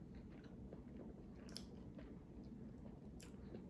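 Close, quiet bites and chewing of a grilled cheese sandwich made with vegan cheese, a few soft crunches over low room noise, no talking.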